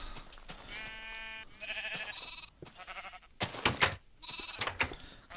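Several sheep bleat one after another in the Minecraft video game, a run of short, nasal, wavering calls that overlap and pile up toward the end, loud and close with no talking.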